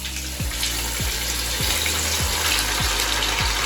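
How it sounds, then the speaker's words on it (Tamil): Steady broadband sizzle of fish frying in hot oil, with a series of regular low thumps roughly every half second underneath; no voices. "ஸோ கைஸ் இப்போ வந்து நம்ம வந்து மீன் ஃப்ரை பண்ண போகிறோங்க."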